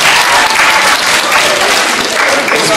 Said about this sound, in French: Sous les applaudissements du public, bien sûr.